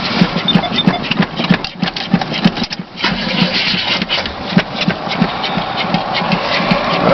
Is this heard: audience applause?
no